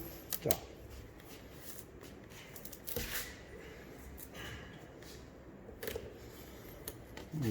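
Masking tape being torn and pressed onto a car body during body-repair practice, with several sharp ripping bursts and crinkly handling noises close by, and a person talking over them.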